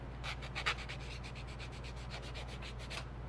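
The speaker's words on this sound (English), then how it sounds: "They're going to be a little bit rough with the 180 grit, but we'll sand those with some finer paper" Plastic model parts being sanded with 180 grit sandpaper, a quiet run of quick back-and-forth rubbing strokes in a steady rhythm, heard close and alone.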